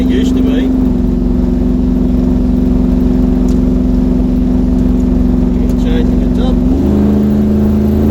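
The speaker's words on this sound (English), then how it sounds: "The first ride with the 383 Chev in it." A car fitted with a 383 Chev engine drives along, its steady engine drone loud and close throughout, with a shift in pitch near the end as the engine note changes.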